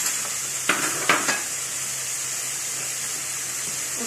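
Peas are tipped into a pan of spiced chicken vegetable fried rice, giving a few quick scraping clatters of a utensil before a steady, even sizzle carries on alone.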